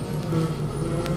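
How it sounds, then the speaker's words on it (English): A garbage truck rolls past on a suburban street, a dense low engine rumble with broadband road noise, close and steady throughout the short stretch. "Wait for this garbage truck to go by real quick."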